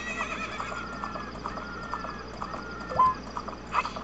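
Epona the horse in Ocarina of Time Master Quest gives a clear whinny among steady clip-clopping hooves, with a couple of brighter neighing bursts near the end and no talk.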